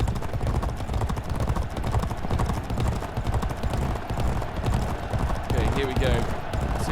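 Horses gallop in a race in the 2008 video game G1 Jockey 4, a steady dense clip-clop of hooves running loud and continuous throughout, with a brief brighter sound near the end.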